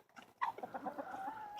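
Full-sized Ameraucana chickens cluck on a farm, a run of soft, close clucks following one sharper call, with no voices over them.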